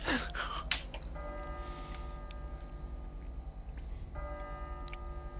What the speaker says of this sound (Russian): Звон колоколов.